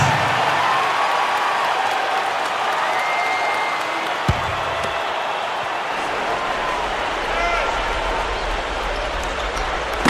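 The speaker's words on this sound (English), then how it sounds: "Give him a round of applause, fans" Continuous crowd applause and cheering fill an NBA 2K11 basketball arena, a dense steady roar of clapping with one sharp ball-bounce thud partway through.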